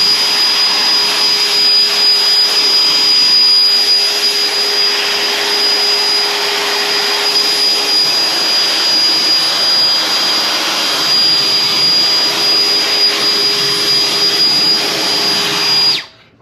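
Compressed air blows dust off an Arrma Felony RC car fitted with a Castle ESC and 4080 2200kv motor, a loud steady close hiss that runs for about sixteen seconds before cutting off abruptly.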